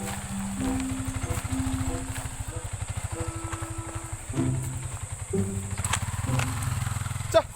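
A motorcycle engine running steadily nearby with a rapid, throbbing low pulse throughout, rising briefly as it revs, while people talk over it.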